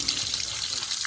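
Steady broadband rush of water gushing from a 1 HP CRI submersible pump set in a 200-foot borewell, continuous and fairly close with no break, and a faint voice in the background.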